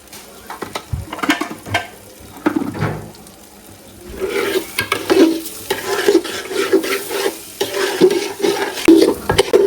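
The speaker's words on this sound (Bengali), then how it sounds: "এটার সাথে চাউল দিয়া চাউলটা ভাজা হচ্ছে" Rice is fried in hot oil with ginger and garlic in a pot for chicken tehari. There is a close, loud sizzle with repeated scraping stirs of a spoon, and the frying grows more intense partway through.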